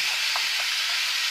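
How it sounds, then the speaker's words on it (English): Potatoes and zucchini fry in a pan with a loud, steady hiss of sizzling oil and a few soft stirring scrapes underneath. "so he's added the potatoes and now he is stirring it up"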